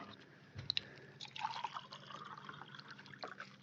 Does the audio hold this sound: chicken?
no